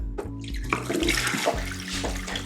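Water runs steadily from a tap into a floor cleaner's clean-water tank, a close, continuous splashing and gurgling with no talking.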